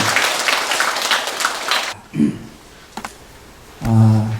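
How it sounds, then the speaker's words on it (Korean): An audience at a Buddhist Wednesday dharma service applauds to welcome a monk, with dense clapping for about two seconds, and then the hall goes quiet apart from a few small sounds. "불자 여러분들께서는 모두 큰 박수로 스님을 환영해 주시기"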